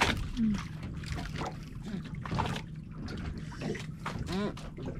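A boat engine drones nearby with water sloshing and splashing, while people talk over it during grouper fishing.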